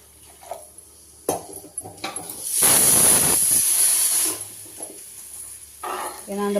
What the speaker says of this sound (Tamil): இப்போ கொஞ்சம் தண்ணி ஊற்றிக்கலாங்க.